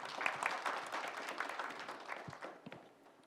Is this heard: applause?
yes